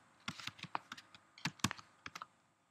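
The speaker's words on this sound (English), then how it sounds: "I'm going to type in friend, and I just typed in friend" Typing on a computer keyboard: a quick, irregular run of about a dozen crisp key clicks, close and fairly quiet, with no talk.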